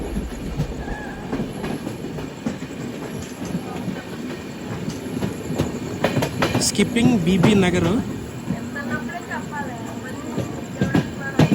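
Charlapalli to Kakinada special express train rolls slowly through a station, wheels clattering on the rails and briefly squealing, heard from on board while a person talks throughout.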